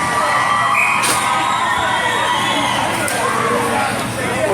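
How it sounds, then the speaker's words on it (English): At a men's USA versus Slovakia ice hockey bronze medal game, an arena crowd roars and cheers steadily, with scattered shouts and whoops rising out of the loud, continuous din. "Cheers raining down from the U.S."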